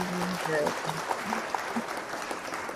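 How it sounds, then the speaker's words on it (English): Studio audience applause on a talk show: a steady wash of clapping under a voice as a guest is welcomed. "you guys getting too much of an applause here, so I'm going to stop that."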